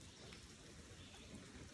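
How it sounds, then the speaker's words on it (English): Steady rain falls on the Appalachian Trail near a trail shelter, a dense, even hiss of drops with no voices over it. "So much rain."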